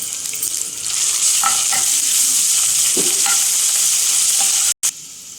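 Ginger paste sizzles loudly in a hot pan while a spoon stirs it, a dense crackling hiss with a few scraping knocks, close up, briefly cut off just before the end.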